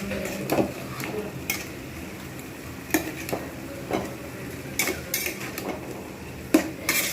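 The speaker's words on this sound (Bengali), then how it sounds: "চিংড়িগুলোকে আমি কিন্তু খুব ভালো করে মশলার সঙ্গে কষিয়ে কষিয়ে নেব আস্তে আস্তে" Prawns stir-fried slowly with spices in a pan, a soft steady sizzle broken by repeated clinks and scrapes of a spoon against the metal, close and moderately loud with no voices.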